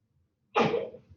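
A single short sneeze bursts out after a moment of silence in a classroom during a statistics lecture, close and fairly loud, fading quickly.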